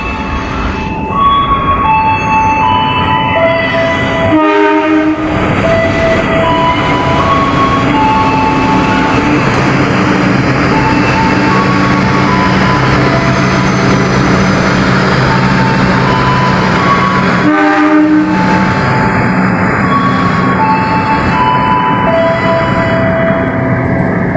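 The Sawunggalih passenger train rumbles in steadily and loudly, wheels rolling and metal squealing over the rails, with clanks and a deep continuous roar as it pulls into the station.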